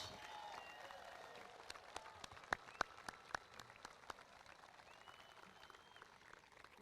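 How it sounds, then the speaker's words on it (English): Scattered applause for a high school band at a graduation ceremony, faint and thin with a few distinct sharp claps near the middle that taper off toward the end. "Let's give a round of applause to the Jonathan Law High School band."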